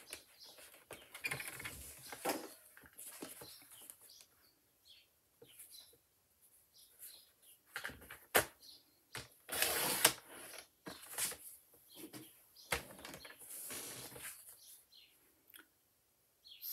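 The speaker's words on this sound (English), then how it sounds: "Get our trimmer out." A paper trimmer cuts and scores cardstock, with letter-size sheets cut in half and then scored. Close, intermittent scraping slides and sharp clicks come in irregular bursts, separated by quiet pauses.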